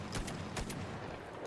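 A Type C rifle fires in STALKER GAMMA, several rapid gunshots cracking out in a quick burst over a dense, loud background.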